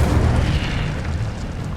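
An Incendio fire spell going off in Hogwarts Legacy as a loud, dense roaring blast that fills the whole moment and stays powerful without fading, with no voice over it.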